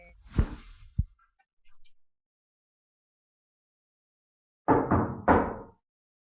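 Knocking on a door, one or two soft taps at first, then after a long pause a louder, close cluster of three firm knocks, with no voices.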